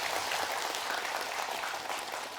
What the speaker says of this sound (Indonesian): Tepuk tangan buat guru-guru kita hebat ini.